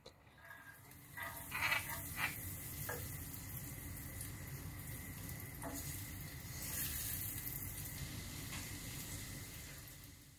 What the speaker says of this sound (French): je vais venir faire fondre du beurre et je vais ensuite y faire revenir les morceaux de carotte